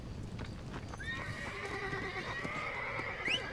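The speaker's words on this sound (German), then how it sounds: "Ja, du bist mein Pferd." A horse in the Red Dead Redemption video game gives a clear, rising whinny over steady clip-clop hoofbeats and ambient outdoor game noise, with a short sharp squeal near the end.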